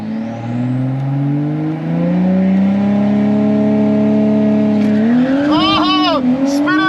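Audi B9 S5 launching at a quarter-mile drag race, its engine note climbing loud and close as the wheels spin, then tire squeal rising in rapid wavering chirps near the end.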